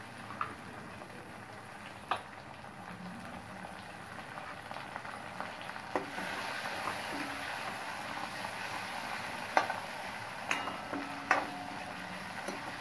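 Onions and tomatoes sauté in oil for a Chama gadda pulusu or Seppankizangu masala kuzhambu, giving a soft, steady sizzle that builds slightly, with a few sharp utensil clicks and taps.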